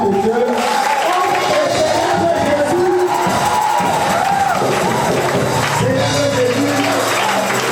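A church congregation cheers and acclaims together, a loud continuous roar of voices and shouts filling the space throughout.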